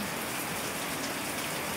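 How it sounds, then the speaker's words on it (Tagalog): Heavy monsoon rain pours down in a dense, unbroken hiss, loud and steady with no voices. "Malakas pa din yung ulan"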